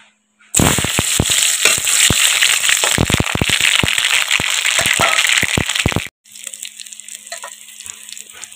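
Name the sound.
chillies, garlic and mustard frying in oil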